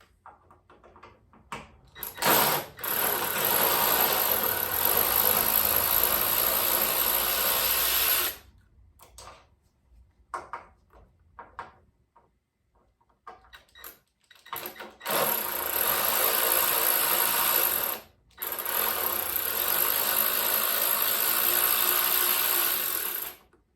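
Power tool backing out the bolts on a Harley-Davidson Dyna Low Rider fuel sending unit: several sustained bursts of whirring, several seconds each, separated by quiet gaps with small clicks and handling noise, close up.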